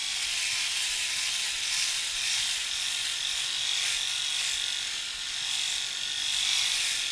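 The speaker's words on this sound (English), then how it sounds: "you probably can't hear me very well because of the shaver" A Moonshave electric shaver runs over facial hair with a steady, close buzzing hiss that holds evenly throughout, with no talking.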